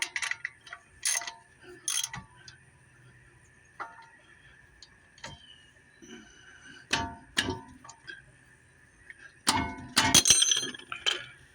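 A bolt is tightened with a ratcheting wrench during a brake change on a 2002–2009 Chevrolet Trailblazer, close metallic clicks and clinks arriving in scattered bursts, busiest near the end.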